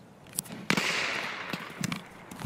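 A sniper rifle shot in the video game Escape From Tarkov cracks out fairly faintly and trails into a short echoing decay, with a few softer pops and clicks from the game scattered around it.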